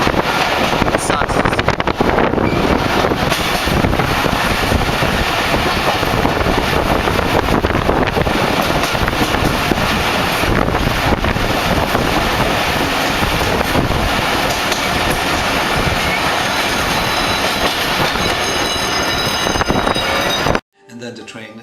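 A passenger train travelling from Dhaka to Khulna in Bangladesh, heard as a loud, constant rumble of the ride mixed with heavy wind buffeting for about twenty seconds before cutting out abruptly.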